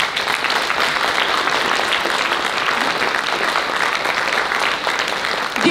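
Audience applause at a traditional kanklės ensemble's fifth-anniversary concert: dense, steady clapping from a full hall, holding at an even loudness throughout.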